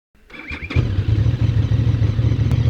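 A QJ Motor SRV 550 ST motorcycle engine cranks and catches, then settles into a loud, steady, throbbing idle.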